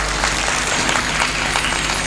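Audience applause for Lord Shiva at a Hindi devotional bhakti stage performance: a steady wash of many hands clapping, loud and continuous, with no voices on top.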